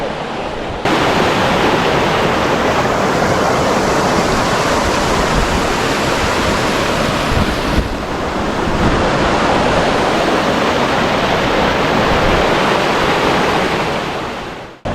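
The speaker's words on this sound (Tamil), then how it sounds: "பாருங்க தண்ணி எப்படி கரெக்டாக ஓடுது பாருங்க" Water rushes through a dam sluice gate near Tirunelveli, a loud, dense, constant roar of flowing water, close and unbroken for the whole stretch.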